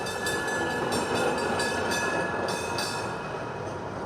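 A train at the railway station in Lonquén rumbles steadily with a dense, continuous roar, faint rhythmic clacks and a thin high squeal from the wheels, loud and close, with no talking.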